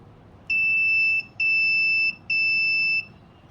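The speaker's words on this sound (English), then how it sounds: "if the password entered is wrong, the LCD will display a message of access denied and the buzzer will go off" A mini smart home buzzer sounds after a wrong password entry, giving three loud, piercing electronic tones, each under a second long and separated by short gaps, over faint background hum.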